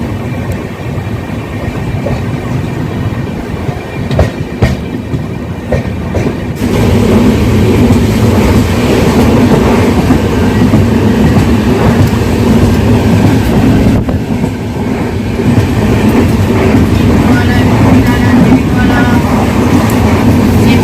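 Jaipur–Secunderabad Express pulling out of platform 2 at Amla Junction, a steady loud rumble of wheels and carriages that grows denser after the first few seconds, with faint voices underneath.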